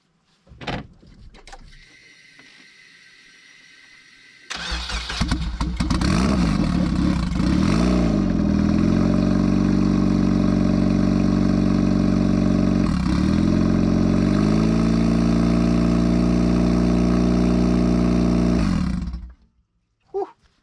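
A Nissan SR20 turbo engine in a budget build cranks briefly, then catches and settles into a loud, steady idle that holds for about fifteen seconds before shutting off.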